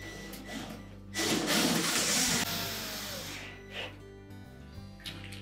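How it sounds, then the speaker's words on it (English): A power screwdriver whirs briefly into the console of a Whirlpool washer, a buzzing drive of about a second followed by softer motor hum and faint clicks. "And then we can put the three screws in."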